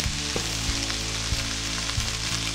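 Cabbage being wilted for sauerkraut sizzles steadily in a hot pan, a dense continuous frying hiss broken by a few soft clunks.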